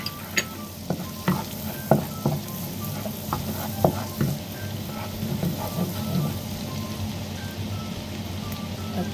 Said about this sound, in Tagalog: mag-melt ang ating butter guys. Lagyan na po natin yung ating 6 cloves na garlic.